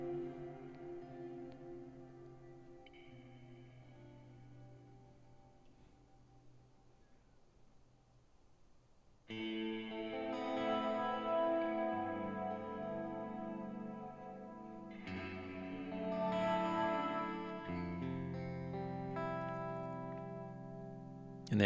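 An electric guitar plays through a Neunaber Illumine reverb pedal set dark and brooding at toe-down. Quiet, sustained notes with long washy tails give way to louder strummed chords halfway through, ringing into a lush reverb.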